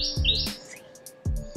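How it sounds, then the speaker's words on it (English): Small birds chirp and tweet outdoors with bright, high calls and quick downward notes, fairly near, and no voices over them. "There's so many birds here."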